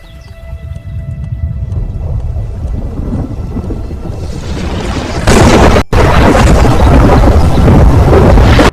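Animated story thunder: a long, deep rumble that builds steadily, then breaks into a loud roaring crash of storm noise with a brief cut before it continues at full strength, with no speech.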